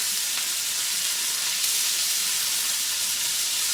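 A loud, steady sizzle of meat frying in a hot pan, a bright continuous hiss with little variation and no talking.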